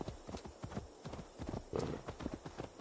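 Iron-shod horse hooves clop in a steady rhythm in the video game Assassin's Creed Valhalla, moderately close and fairly faint, with a brief whinny-like note among the footfalls and no talk.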